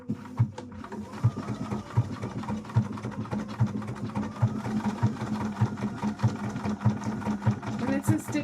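Sewing machine stitching a Twilight Princess Link cosplay piece, a rhythmic mechanical thumping of roughly two beats per second that runs steadily beneath a person talking.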